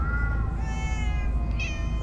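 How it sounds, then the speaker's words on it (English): Several cats in Minecraft Story Mode meow over and over in drawn-out, overlapping calls, loud and close, above a steady game background. "Many cats, so many cats."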